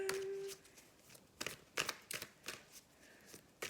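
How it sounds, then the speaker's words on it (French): Tarot cards shuffled and drawn, a series of soft, close riffling swishes in irregular bursts, fairly quiet. "Alors, une autre petite carte."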